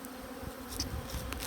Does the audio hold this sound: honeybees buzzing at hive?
yes